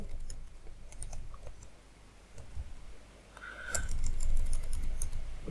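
Bursts of typing on a computer keyboard, with scattered light key clicks and a denser flurry near the end, fairly faint against a quiet room.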